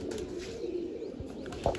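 A soft, low pigeon coo drifts in the background at a pigeon loft, brief and fairly faint, with a slightly louder note near the end.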